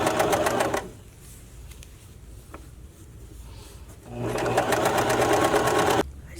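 A sewing machine stitches elastic onto a bra in two loud bursts of steady rapid whirring, the first lasting about a second and the second running about two seconds, with quiet handling sounds between them.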